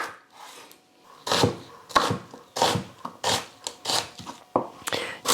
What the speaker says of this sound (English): So we're going to be chopping some onions, some carrot, and some celery